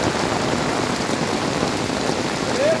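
Steady heavy rain pours outdoors during a monsoon football game, a dense continuous hiss of drops on surfaces at fairly close range, with no voices heard.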